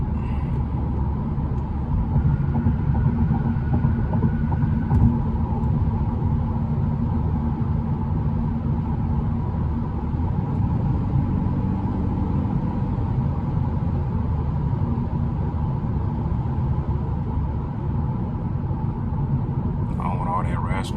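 Raspy exhaust rumble from a daily-driven car cruising through the city at night, a steady low drone filling the whole stretch with no letup, with talk from inside the cabin.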